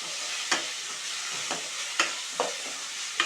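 Tomatoes frying in a pan of oil for a bitter gourd pulusu stew, a steady close sizzle broken by several sharp stirring scrapes at irregular intervals, with no talking.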